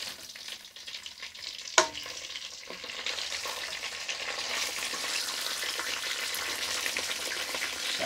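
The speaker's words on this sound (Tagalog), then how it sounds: "Ayan ang ating pinipritong tilapyang" Tilapia fries in hot oil with a dense, steady crackle and sizzle, close and fairly quiet, broken by a single sharp clack of a utensil early on.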